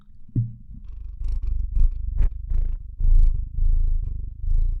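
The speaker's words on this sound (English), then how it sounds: "my cat currently, who's sitting on my lap purring" A cat purrs on its owner's lap, close and loud, in a steady rhythmic rumble of repeated breaths with a brief chirp near the start.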